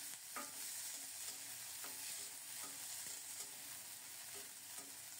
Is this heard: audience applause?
no